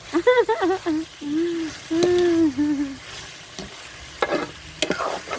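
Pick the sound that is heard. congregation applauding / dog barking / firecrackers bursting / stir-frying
stir-frying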